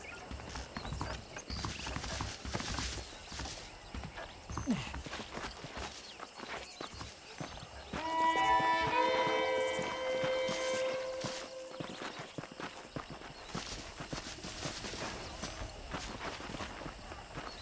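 Horse hooves clip-clop steadily at a walking pace in Red Dead Redemption, with a brief whinny partway through, over game ambience and music.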